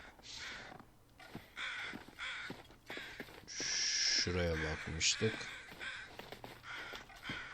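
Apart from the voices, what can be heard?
crows cawing in the video game The Long Dark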